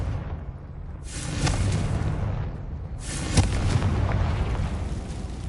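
Two big blasts from the Confringo spell in the video game Hogwarts Legacy, each a loud booming burst followed by a rumbling decay, the second hitting at about three seconds.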